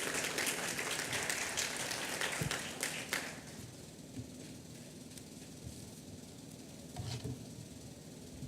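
An audience at an evening medical session applauds, a dense, moderately loud patter of many hands that thins out after a few seconds and lingers faintly, with no speech over it.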